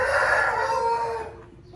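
Chickens sick with a respiratory illness make a short, loud, strained crowing cry that fades out near the end, alone without talk.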